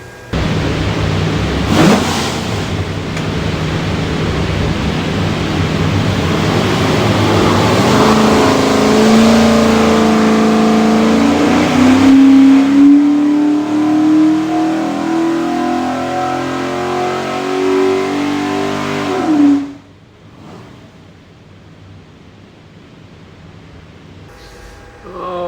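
A Borla stack-injected 427ci Windsor V8 with Holley fuel management, built for a '67 Mustang, runs on a dyno. It idles loudly, then revs in a long rising pull before cutting off abruptly into quiet.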